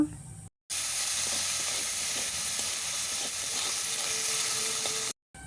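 Onions with chilli powder, turmeric and salt fry and sizzle in a pan with a splash of water, giving a steady, even hiss close by that runs for several seconds between brief silent gaps.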